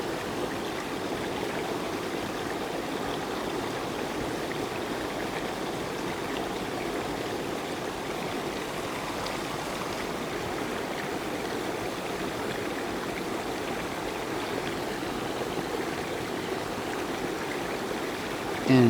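Steady rushing and splashing of a hidden waterfall and stream in the Laos jungle, a continuous broadband wash of moving water holding even throughout with no talk.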